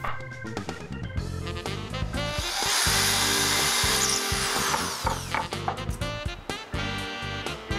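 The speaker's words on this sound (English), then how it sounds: "Using a 1/4 inch bit, drill through the brace that's marked." A power drill with a 1/4 inch bit bores through a marked wooden brace, a loud, steady whine that grinds on for about eight seconds with shifting pitch as the bit bites through the wood, no voices present.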